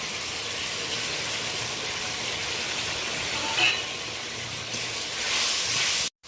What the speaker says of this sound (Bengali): মশলাগুলো ভালো করে কষিয়ে নিলাম।